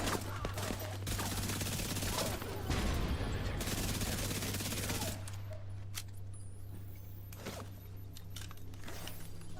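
Hip-fired automatic gunfire in The Division 2 rattles continuously in a dense, loud stream that eases slightly partway through, with scattered mechanical clicks and no clear talk.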